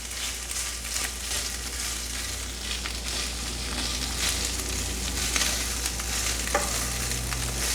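Beef crackles and sizzles in a pan while being stirred, a continuous close frying hiss with occasional scraping and clinks over a low steady hum.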